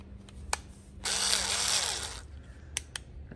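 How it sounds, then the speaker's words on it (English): A Bauer 4-volt cordless screwdriver spins up once for about a second of steady motor whir, close and fairly loud, then cuts off, with a few small clicks before and after. "This is my Bauer 4-volt screwdriver."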